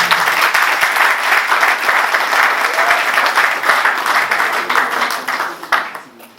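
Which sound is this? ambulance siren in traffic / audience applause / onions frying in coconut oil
audience applause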